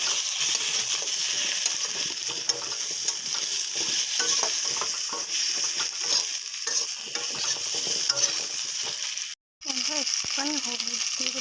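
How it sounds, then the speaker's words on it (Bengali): Potatoes fry in hot oil in a pan, giving a steady close sizzle with intermittent stirring scrapes, broken by a brief gap near the end. "আলুটাকেও ভেজে নেব।"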